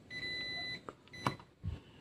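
A faint, high electronic buzzer beep sounds briefly early on from a Samsung LED TV with no picture, followed by a few soft clicks and a low thump in a quiet room.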